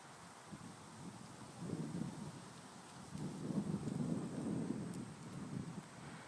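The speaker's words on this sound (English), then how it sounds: "Saw how peaceful that wind was?" Wind blows steadily outdoors, a soft low rumbling rush that swells and eases in gentle gusts, faint and unaccompanied by voices.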